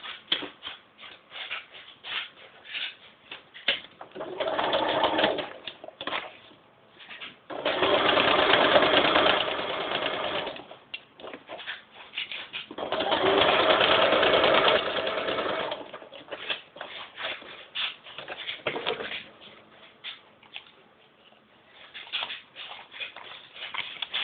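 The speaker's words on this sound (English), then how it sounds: "I'm going to sew this line between 1," Domestic sewing machine stitching a paper-piecing seam line, running in several short whirring bursts separated by pauses and small handling clicks, close and moderately loud.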